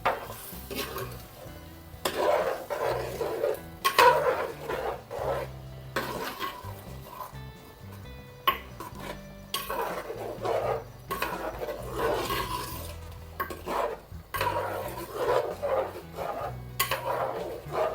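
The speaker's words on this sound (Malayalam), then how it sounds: "ഇനി ഇത് നല്ലതുപോലെ ഒന്ന് മിക്സ് ചെയ്യേ." A spoon stirs vegetable chicken curry in a pot, with repeated scraping and clattering against the metal over a soft background sizzle, close and continuous in uneven strokes.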